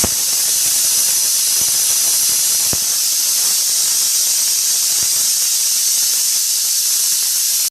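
Potatoes boil in a covered pot on a gas stove, giving off a steady, loud, high steam hiss that runs unbroken, with a few faint clicks beneath it before it cuts off abruptly.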